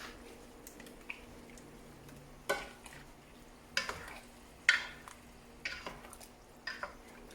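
A spoon stirs chicken guisado in a cooking pan, a few scattered scraping clanks and soft squishes over a low simmering sizzle, close and without talk.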